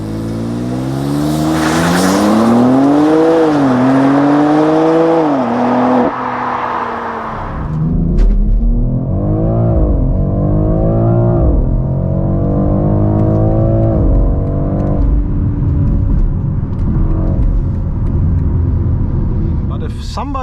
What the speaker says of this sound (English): Let's see how fast the car goes. 0 to 100 and of course 100 to 200.